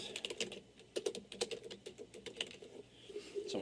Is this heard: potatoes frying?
no